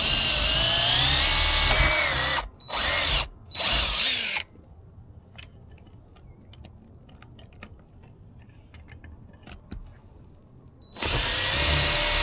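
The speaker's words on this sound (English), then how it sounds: "Make some pilot holes." A power drill boring pilot holes while mounting Starlink internet gear, running in loud bursts: one long run, then two short pulses, a quieter stretch of low background noise, and the drill starting up again at the end.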